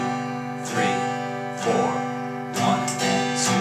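A guitar strummed in a steady quarter-note pulse, full chords ringing between roughly even down-strokes, the later strums coming a bit closer together; played alone with no talking.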